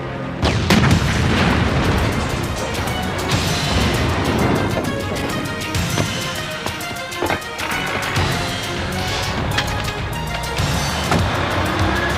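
Heavy explosions boom and rumble continuously with repeated sharp blasts, crackling debris and pops layered over a dense, loud roar for about twelve seconds.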